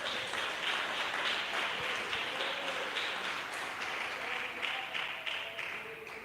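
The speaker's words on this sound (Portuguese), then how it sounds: "Se você achar que Jesus merece, aplaude ele bem forte" A church congregation applauding during a service: steady, fairly quiet clapping from many hands spread across the room, continuous for several seconds with a faint murmur beneath.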